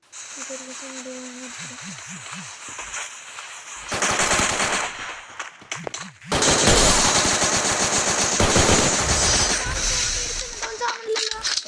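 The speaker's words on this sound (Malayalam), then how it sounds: "വെടിയടിക്കുന്ന" Rapid automatic gunfire from a headshot challenge video game, loud bursts in two long stretches, with voices talking between and over the shots.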